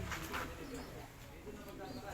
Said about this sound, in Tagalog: Ito po ang aking ibon na si Badja